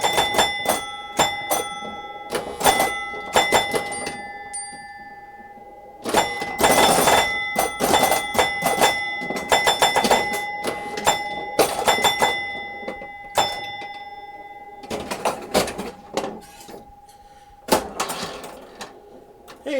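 A Williams Honey pinball machine in play rings its loud bells in rapid bursts, mixed with ball thunks and flipper clacks, clustered rings alternating with brief quieter gaps.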